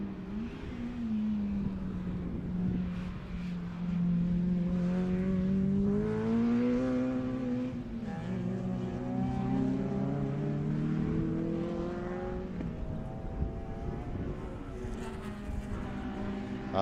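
Race cars lapping a circuit, a close engine whine rising and falling in pitch through gear changes and corners, continuous and loud, with further car noise trailing off toward the end.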